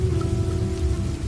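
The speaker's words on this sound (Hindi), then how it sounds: "अभी जैसे जोरों की बारिश शुरू हुई है" Heavy rain pouring steadily in a village at night, a dense, continuous hiss of rainfall on surfaces, loud and close, with no talking.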